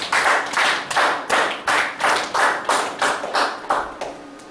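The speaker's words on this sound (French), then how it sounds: "Acclamation pour le Seigneur." A church congregation claps in acclamation, about ten loud, evenly spaced unison claps in a steady rhythm, close and clear with little else around them.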